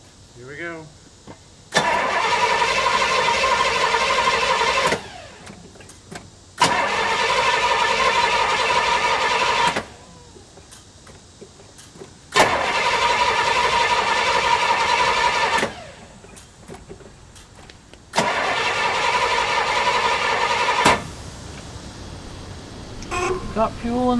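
A 1968 Pontiac LeMans engine cranks without catching in four long bursts of several seconds each, separated by short pauses, loud and close, with voices in between.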